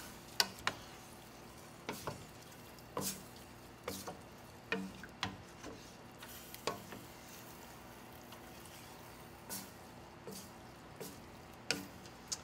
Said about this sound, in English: So I'm just going to give this a good stir.